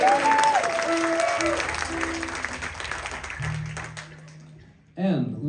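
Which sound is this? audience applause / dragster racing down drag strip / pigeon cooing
audience applause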